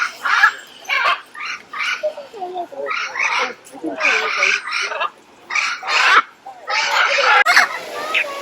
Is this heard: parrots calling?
yes